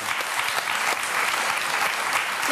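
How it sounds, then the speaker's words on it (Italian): Dense, steady applause from a television talk show studio audience, close and sustained throughout without a break. "Un applauso."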